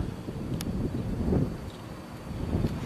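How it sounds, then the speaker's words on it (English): Gusty wind on a hilltop overlooking the Atlantic rumbles and buffets continuously in the open air, with no voices, just a low, rushing roar rising and falling. "It's getting very windy up here."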